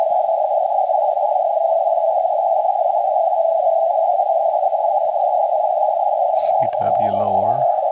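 A noisy RTTY radio signal near 7053 kHz sits as a steady tone inside loud hiss, with a warbling carrier sliding in near the end and no talking.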